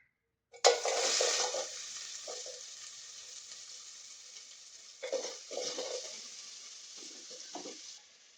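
Chopped onion, tomato, green chilli, garlic, coriander and curry leaves tipped into hot oil burst into a loud sizzle, settling to a steady fry, with stirring bursts and a second flare of sizzling midway.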